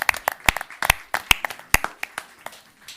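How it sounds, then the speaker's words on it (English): A small audience at a multidisciplinary forum claps in a loose, scattered round of applause, with individual sharp claps standing out rather than a full dense roar. "Give yourself a round of applause for looking so beautiful."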